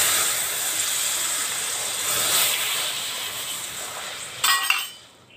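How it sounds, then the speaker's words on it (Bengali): Milk hits a hot pan of roasting semolina with a loud, steady steamy hiss that fades, followed by a short clink of a utensil against the pan before the sizzle dies away. "দেখুন এইবারে আমি দুধটা দিয়ে দিলাম।"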